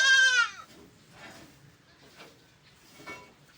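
A goat bleats once, loud and close at the start, in an outdoor farm setting, followed by quieter rustling and faint distant animal sounds.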